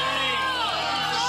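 Studio audience on the TV game show Tipping Point cheering and whooping as players try to dislodge a final disc, a dense, continuous crowd roar that is loud and close throughout a short burst.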